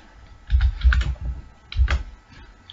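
Bursts of typing on a computer keyboard while writing C code, two quick clusters of clicky keystrokes separated by a short pause, close and clear with no talking.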